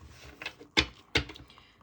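A Heavenly Bloom tarot deck being shuffled by hand, heard as a few soft, papery slaps and riffles close by in a quiet room, with no talking.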